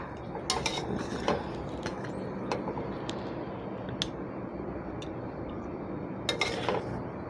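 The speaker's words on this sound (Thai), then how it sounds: "เมนูง่ายๆเสร็จสับเรียบร้อยเราก็ตักใส่จานเสิร์ฟได้เลยค่ะ" Stir-fried long beans and shrimp being scooped from a pan onto a serving plate, with scattered metallic clinks and scrapes of a utensil against cookware over a low steady background, fairly quiet and close.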